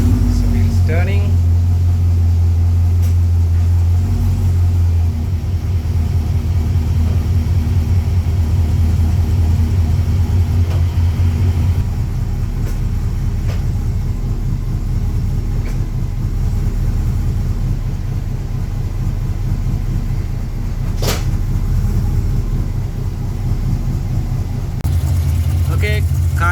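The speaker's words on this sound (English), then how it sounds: "Okay, car is running" Holden Commodore VE Series 1 SS engine idling steadily with a hot transmission, a continuous low rumble close by that shifts slightly partway through, with no talk over it.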